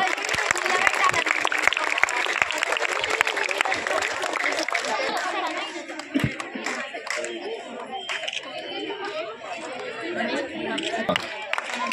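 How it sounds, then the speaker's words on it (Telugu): Sustained crowd applause and clapping fill a school sports prize ceremony for a Kho-Kho tournament, loud and continuous at first, then easing into scattered claps amid general crowd chatter and voices. "గట్టిగా చప్పట్లు"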